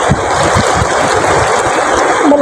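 A strong river stream rushes steadily and close by, broadband water noise filling the whole moment without pause, with no voices over it.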